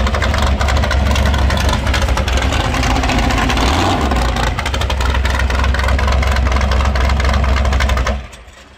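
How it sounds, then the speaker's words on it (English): A car engine revs hard and steadily during burnout practice, a loud close roar with tire noise held at high RPM for about eight seconds before cutting off abruptly. "Just practicing the burnouts."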